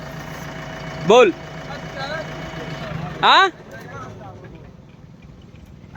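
A tractor engine idles with a steady low hum at an accident scene in Deoria district, India. It runs under voices, then cuts out partway through.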